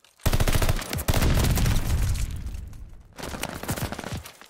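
Heavy gunfire around a hardpoint objective in Call of Duty: Vanguard, loud sustained bursts of automatic weapons with booming shots, a brief lull, then another close volley of rapid fire.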